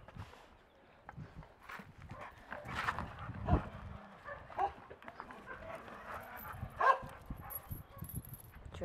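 A dog growls low and rumbling at close range, with brief snarls and shifting movement around it.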